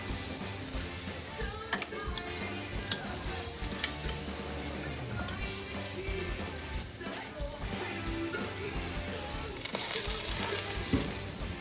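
Appetizers sizzle steadily on a Blackstone griddle, a continuous crackling fry close by with occasional clinks, the hiss swelling briefly near the end.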